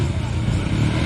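A Royal Enfield motorbike revs loudly and close during a stunt show at the Peterborough MCN motorbike festival, a dense roaring engine drone with people talking over it.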